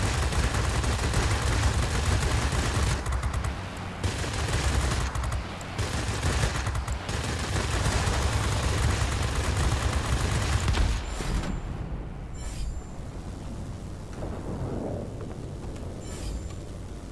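Aircraft guns in World of Warplanes hammer out long, dense bursts of rapid gunfire with brief gaps between them, then cut off and leave quieter engine drone with a few faint late bursts.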